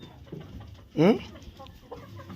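A hen held in someone's hands gives one loud, close squawking cluck, then fainter clucks and low background murmur.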